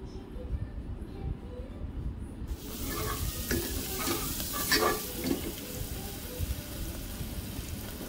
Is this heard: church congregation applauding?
no